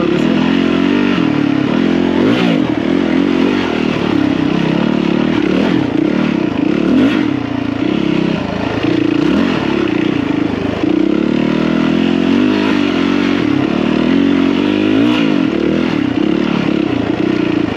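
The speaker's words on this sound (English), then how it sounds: "But overall, the bike ran great," A dirt bike engine drones steadily and loudly along a trail at McCain Valley, with continuous engine roar, rattling and clatter over the whole stretch and no talk.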